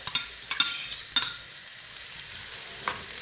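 Onion and two garlic cloves sizzle steadily in olive oil in a tagine, with a constant close frying hiss and a few light stirring clinks.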